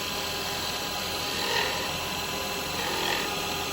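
A carbide tool cuts a wooden spinning top on a lathe, giving a steady, fairly quiet scraping hiss over the motor's hum, with two brief swells as the cut bites.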